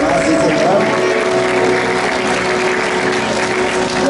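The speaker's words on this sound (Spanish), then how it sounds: "Que se escuche bonito el aplauso." Concert audience applauding, a steady dense wash of clapping and crowd noise that stays loud and constant throughout, with a faint tonal hum beneath.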